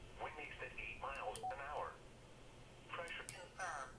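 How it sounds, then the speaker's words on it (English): A Baofeng UV-5R handheld radio set to wide band plays received voice transmissions through its small speaker, thin and hissy with static underneath, in short bursts separated by a brief gap. "Now listen to it on wide."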